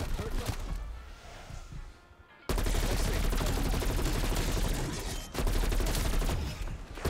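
Rapid bursts of automatic gunfire in a Call of Duty zombies game, loud and dense, broken by a brief lull and then resuming, with excited voices shouting over the shooting.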